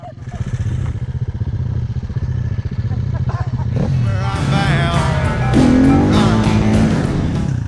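A dirt bike rides on a dusty trail with a loud, close engine that drones steadily and then revs up and down with rising whines, rattling throughout.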